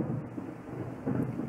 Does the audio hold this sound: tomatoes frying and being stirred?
no